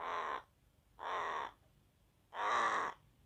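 A crow gives three loud, harsh caws, two close together and then a third after a short pause, each lasting about half a second against a quiet background.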